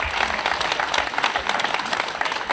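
An audience at a football club presentation applauds a former defender, giving dense, even clapping that carries steadily throughout.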